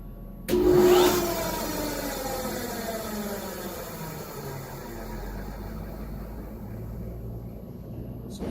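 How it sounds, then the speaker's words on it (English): A hydraulic press brake motor starts with a loud surge and rising whine, then settles into a steady mid-pitched electric hum and mechanical drone that runs to the end, wired out of phase so it turns counterclockwise. "that motor was running counterclockwise, which means it's out of phase"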